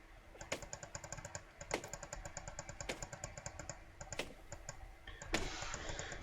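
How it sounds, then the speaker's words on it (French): An axe chops a tree in the survival video game The Forest. About five sharp, evenly spaced impact thuds land roughly a second apart over a busy, low background of game sound. "Je vais couper cet arbre."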